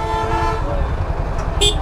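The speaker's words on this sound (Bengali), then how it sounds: "এখন এইখানে জ্যাম" Car horns toot in a traffic jam on a rainy road toward Cox's Bazar, with a sustained honk up front and a brief higher beep near the end over a low rumble of idling vehicles.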